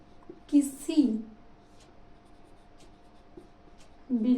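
A pen scratches faintly on paper as chemistry definitions are handwritten, soft intermittent strokes under a man's occasional speech.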